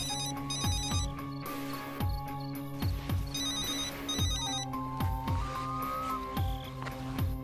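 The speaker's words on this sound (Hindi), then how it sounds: "काफी देर से ये फोन बज रहा है मगर हमने नहीं उठाया सर" A telephone rings steadily in repeated electronic bursts over a busy, layered background of rhythmic thumps and tones, with no one talking.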